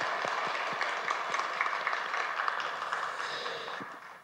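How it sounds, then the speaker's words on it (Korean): Congregation clapping during a Korean church afternoon worship service, honoring a choir's hymn, a steady broadband patter of many hands sustained throughout and slowly tapering near the end. "다시 한번 감사와 그리고 주님께 영광의 박수를 올려드리겠습니다"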